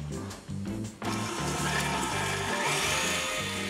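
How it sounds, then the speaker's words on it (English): An electric mixer creams a stick of butter with granulated sugar for a birthday lemon cake, a steady close whirring drone that starts after a brief pause and runs continuously, with a few soft clicks at the start. "Now I'll just let those turn, spin, and cream together get nice and fluffy."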